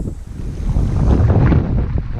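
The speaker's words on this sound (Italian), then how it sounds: "A parte si è messo un vento pazzesco." Strong sea wind buffets the microphone, producing a loud, steady low roar with gusty swells that continues throughout, heard while spinning-lure fishing on the coast at dawn, with no voices.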